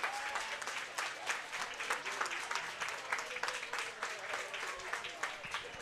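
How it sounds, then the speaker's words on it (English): Sustained applause from a crowd in the warm room beside a curling sheet, with dense, steady clapping that carries on throughout at a moderate, slightly distant level. "the applause in the warm room coming from that game on sheet C"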